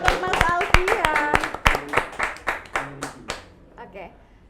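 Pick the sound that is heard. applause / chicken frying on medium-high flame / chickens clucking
applause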